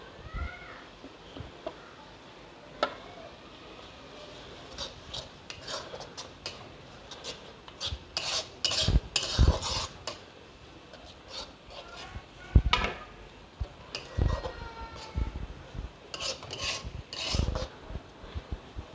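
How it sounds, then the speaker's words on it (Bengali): Coriander leaves stirred into a pan of pumpkin and egg kofta, a dry scraping and rubbing of a spoon against the pan in uneven bursts, growing louder midway, with no talking. "ধনে পাতাটা দিয়ে ভালো করে কষে নেব"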